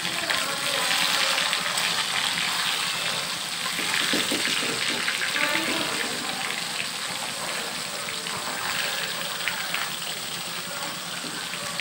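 Pieces of Japanese puti fish sizzle in hot oil in a wok, a steady close crackling hiss that carries on without a break for the whole stretch, with no talking.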